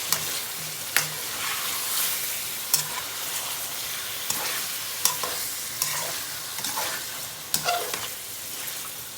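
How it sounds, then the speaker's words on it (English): Chicken and chopped tomatoes fry over high heat in a pot for biryani, giving a steady close sizzle broken by repeated scraping stirs of a spoon against the pan. "Fry on high heat for about 2 minutes."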